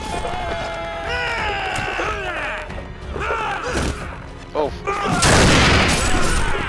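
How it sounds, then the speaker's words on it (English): A primitive rifle fires in the game Mount and Blade Warband during a melee battle, a sudden loud crack and burst near the end amid clashing thuds and shouting voices. "Ow, gunshot."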